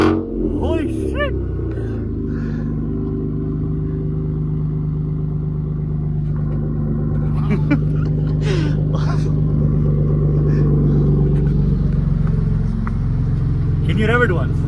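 A Ford Raptor's engine cranks and fires up very loud and close, settling into a deep, steady rumbling idle that fills the clip, with people talking and exclaiming over it.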